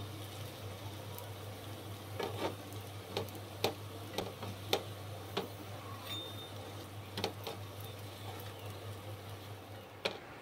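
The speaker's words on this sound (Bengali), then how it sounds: "এইরকম ভাবে ভাজাটা হবে।" Bread slices fry in oil in a pan for shahi tukda, a soft continuous sizzle punctuated by scattered sharp crackles and ticks over a low steady hum.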